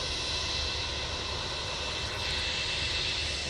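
An Emirates courier express jet lands at Manchester, heard as a steady, broad engine roar with rushing noise at moderate distance, continuous and without voices.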